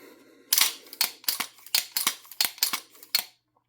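A pistol slide racked repeatedly by hand on a handgun fitted with a disconnector ramp cut: about ten sharp metallic clacks in a quick, fairly even rhythm, close and crisp, alone.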